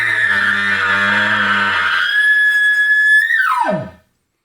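Close and loud, an elk caller sounds a lip bawl imitating a bull elk during archery elk hunting in Oregon: a long, steady, high-pitched whistling bugle that slides sharply down at the end before cutting off.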